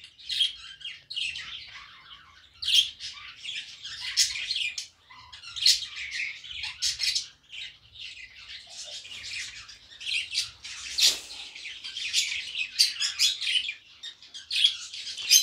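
Budgerigars, a mother bird with chicks, chirp, tweet and squawk close by in a dense, continuous chatter of overlapping high calls that swells and dips throughout.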